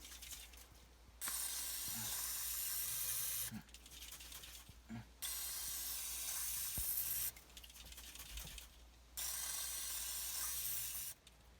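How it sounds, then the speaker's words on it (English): Three separate bursts of fogging spray hiss into the carburetor of a 1997 Sea-Doo Speedster during winterization, each lasting about two seconds, with quiet pauses and faint clicks between them. "get your fogging spray and spray it down into the carb"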